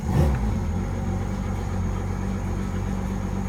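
Inboard engine of a Jaguar 35 sailboat restarting after a man-overboard kill-switch reset, settling into a steady, close, loud low rumble.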